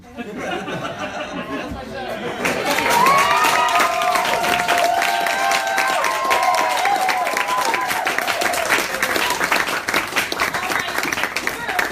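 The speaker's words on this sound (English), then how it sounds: "Another round of applause for that brilliant young man" Applause and cheering from an audience at an improv comedy show, sustained clapping with crowd chatter and some laughter running loudly for most of the stretch after a brief quieter start.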